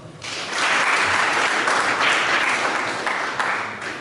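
Audience applause at a community discussion event in Burera, Rwanda, about children's role in ending stunting: sustained, dense clapping that swells quickly and holds steady for several seconds with no talking.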